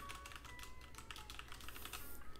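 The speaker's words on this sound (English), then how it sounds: "But that is the keyboard. Here's what it sounds like if you guys want to hear." Typing on a computer keyboard: a quick, steady patter of light key clicks, fairly faint and heard alone over a low background hum.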